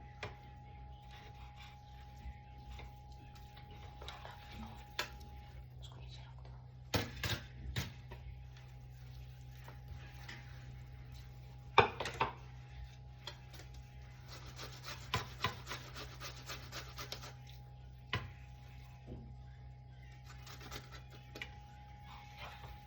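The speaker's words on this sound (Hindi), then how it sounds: "स्वीट पोटैटो शकरकंदी जो है हल्का सा कच्चा है, तो मैं उसको कद्दूकस कर रही हूँ" Raw, slightly underripe sweet potato rubbed against a kitchen grater, giving quiet, uneven rasping strokes with a few louder scraping bursts over a steady low hum.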